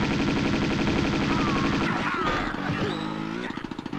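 Rapid machine-gun fire from Tomb Raider 2, fired from a vehicle at thugs, rattles loud and continuous over an engine drone, then gives way to scattered shots and mechanical noise.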